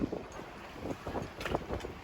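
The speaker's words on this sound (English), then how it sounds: "Jesus, it's getting windy" Gusty wind buffets the microphone in uneven bursts, rumbling and rising and falling in strength over a couple of seconds.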